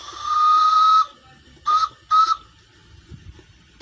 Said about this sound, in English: Listen to this whistle.